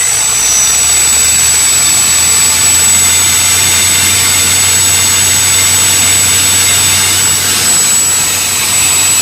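A mock combat robot's weapon motor spinning at quarter throttle, a loud, steady high whine with a constant low hum beneath it, close and sustained without talk.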